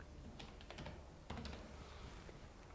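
Someone types a file name on a computer keyboard, a few quiet, quick clusters of key taps with short pauses between bursts.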